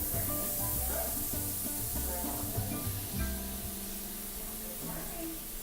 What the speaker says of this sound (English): we're going to be adding our butter